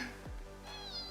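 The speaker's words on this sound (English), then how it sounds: "here's one of the cats right here" A cat meows from inside a laundry room at a large house: a single drawn-out, rising-then-falling call, fairly close and alone, with no talk over it.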